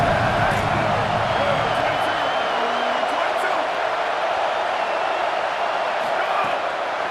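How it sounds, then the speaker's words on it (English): Stadium crowd in EA Sports College Football 27 roars behind the defense on a big third down, a dense continuous wash of cheering that eases slightly toward the end. "Big third down as the crowd gets behind this defense."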